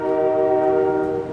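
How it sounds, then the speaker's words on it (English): A loud, sustained train horn sounds as a train passes by outside a closed-window room, the steady tonal blast holding for over a second before easing slightly. "Let that train go by. It makes so much noise."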